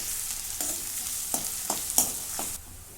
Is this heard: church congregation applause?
no